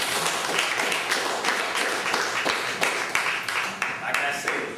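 Applause and clapping from a large audience, sustained and dense throughout, with scattered louder claps and crowd noise mixed in.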